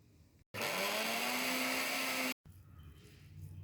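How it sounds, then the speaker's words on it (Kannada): A kitchen mixer grinder whirs loudly for about two seconds as it grinds roasted ingredients for a breakfast recipe, starting and stopping abruptly, with a rising motor whine under a dense grinding roar. "ಇದನ್ನ ಮಿಕ್ಸಿಗೆ ಹಾಕೊತಾ ಇದ್ದೇನೆ."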